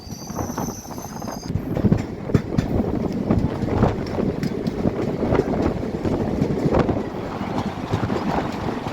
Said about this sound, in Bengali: এই ট্রেনটাকে বলে ডিএমইউ ট্রেন।